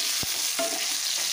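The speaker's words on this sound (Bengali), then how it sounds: "এখন দিয়ে দিলাম কেটে রাখা আলুগুলো দেওয়ার পরেও নাড়াচাড়া করে একটু কিছুক্ষণ রান্না করে নেব" Cut potatoes in a pan over low-to-medium heat for a lau shak curry: a brief spoon scrape and stir over a bright, steady sizzle.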